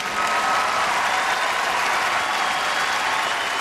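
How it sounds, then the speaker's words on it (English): Stadium crowd applauding at drum corps world championship awards, a dense, sustained roar of clapping and cheering that stays loud and steady throughout with no clear voices above it. "Listen to this crowd. Yeah, the crowd loved them."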